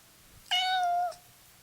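A single clear, close kitten meow lasting about half a second, bright and tonal against a quiet background, with no talking.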